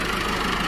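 A Massey Ferguson MF 385 Millat tractor engine idles steadily, a loud, continuous low mechanical rumble with no talk over it.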